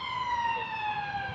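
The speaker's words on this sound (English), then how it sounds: "That's the second ambulance in a space of" An ambulance siren wails steadily in a busy London street at rush hour, a strong rising-and-falling tone holding across the whole moment over low traffic rumble, with faint voices beneath.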